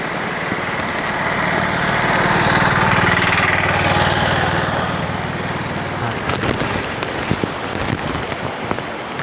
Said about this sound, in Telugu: వర్షం పడుతుంది ఒక సైడు